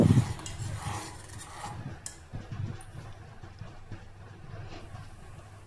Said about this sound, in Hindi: अब हम इसे मिक्स कर लेंगे।